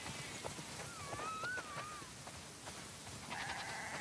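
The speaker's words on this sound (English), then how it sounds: "Wow, that's a lot of sheep." A flock of sheep in the video game The Last of Us Part II bleats faintly against soft background noise, with one wavering bleat standing out in the middle.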